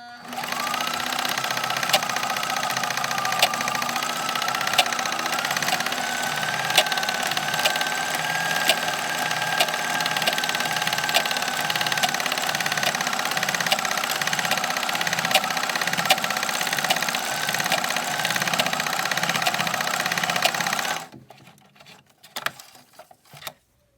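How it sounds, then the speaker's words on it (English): Sewing machine running a continuous seam stitch through webbing on a homemade versa aider, a steady close mechanical whir with rapid rhythmic needle pattering for about twenty seconds, then stopping abruptly followed by a few faint handling clicks. "I'm just going to run a seam stitch through it"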